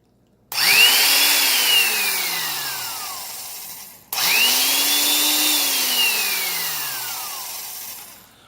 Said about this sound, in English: Here, I'll give them a run. Here we are. This is the